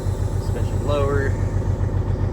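A Cadillac truck engine runs with a steady, throbbing low rumble at a close distance, and a brief whine rises over it midway.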